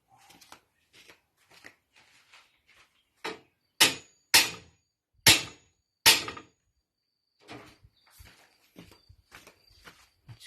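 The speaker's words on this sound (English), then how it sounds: "I'm going to hammer it some more." Hammering on the torque tube of a Peugeot 404 bakkie pickup: a handful of sharp metallic blows land one after another, loud and close, with quieter clinks and shuffling between them.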